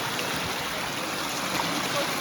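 Creek water running over rocks and boulders, a steady close rushing and gurgling that fills the whole short stretch with no pauses.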